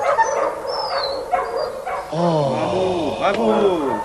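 A rabid dog in an animated French educational cartoon about the discovery of the vaccine yelps and barks in close, whining bursts as it attacks, over a busy soundtrack with voices.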